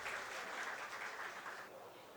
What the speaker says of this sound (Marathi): सर्वांनी टाळ्या वाजून त्यांचं स्वागत करूयात.